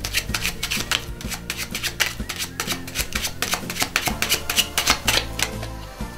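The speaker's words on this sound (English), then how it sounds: "I'm also going to give these cards a shuffling." A deck of playing cards is shuffled by hand during a card trick, giving a run of crisp, rapid riffling clicks and rubs in quick bursts, close and clear with no talking.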